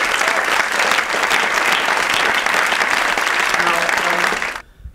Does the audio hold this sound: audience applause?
yes